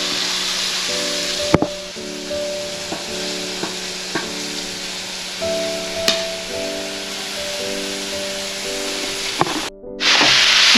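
Grated raw papaya goes into sautéed onion in a pan and is stirred, giving soft scraping and rubbing strokes with occasional sharp clinks against the pan over a low sizzle.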